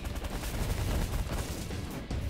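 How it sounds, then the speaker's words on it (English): A ship-mounted minigun in The Last Federation space game fires a dense, continuous rattling stream of rapid shots, loud and unbroken throughout, with no talk. "Hit him with the energy cannon. Or the minigun, I should say."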